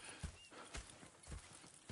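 Horses in the video game Red Dead Redemption 2: faint, evenly spaced hoof clops on the ground, roughly two per second, quiet and slightly distant.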